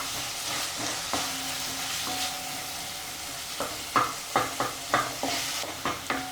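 Tomatoes cook with salt in a pan for fenugreek leaf chutney, a soft steady sizzle running underneath. A series of sharp scraping stirs lands near the end, roughly rhythmic and close. No one speaks.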